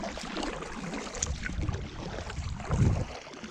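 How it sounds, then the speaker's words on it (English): A kayak paddled along the Santa Fe River: steady broadband water and wind wash with soft splashes from the strokes, swelling into a louder churn near the end. "So I'm gonna keep paddling for a little bit"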